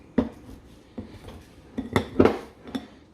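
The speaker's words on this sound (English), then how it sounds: "what we want to do is cut this butter into the flour sugar with the consistency of coarse sand" Butter being cut into flour and sugar in a bowl, giving a series of sharp, irregular clinks and scrapes of a utensil against the bowl, close and fairly clear with quiet gaps between strikes.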